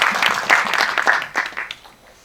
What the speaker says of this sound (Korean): 전우정 배우님께 박수 부탁드리겠습니다